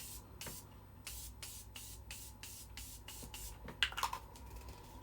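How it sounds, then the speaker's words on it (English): Quick, crisp hissing bursts of Morphe setting spray misted onto a face, about ten short pumps in a steady rhythm, close and fairly soft, followed by a few light handling sounds. "This Morphe setting spray. I don't like the way it sprays out."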